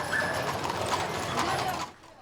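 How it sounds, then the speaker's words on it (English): Horse hooves clip-clop with the rumble of horse-drawn wagons rolling through a historic gold country town in the Sierra Nevada foothills of Amador County, California, a brief steady clatter that cuts off abruptly. "The horse-drawn wagons rumbling through the historic towns of the Sierra Nevada foothills"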